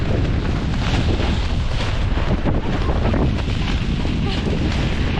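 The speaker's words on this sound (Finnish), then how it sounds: "Sataa! Tuulee ihan vissiin." Strong storm wind batters a campsite tent in roughly 20 m/s gusts, a constant loud roar with rushing buffeting across the microphone throughout.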